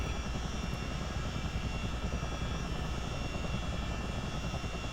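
A Chinook CH-47 tandem-rotor helicopter in a flight simulator game produces a steady, continuous engine and rotor drone at even volume, with no talk over it.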